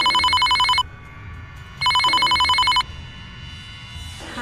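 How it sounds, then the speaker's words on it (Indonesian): A telephone bell rings loud and close in two long bursts separated by a pause, the second burst cut off at the end. "Kemudian telepon tiba-tiba berbunyi."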